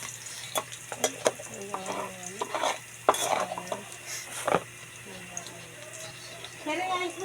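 Vegetables including onion, garlic and carrots sizzle in a pot while soup is cooked, a utensil scraping and clinking against the pot in irregular strokes as people talk over the frying.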